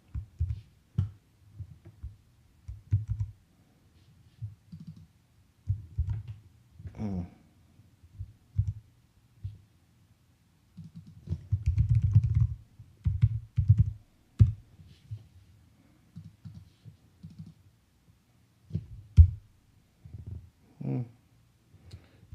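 Keys on a non-Mac computer keyboard are typed in short, sparse bursts of soft clicks with pauses between them, recorded close and quiet.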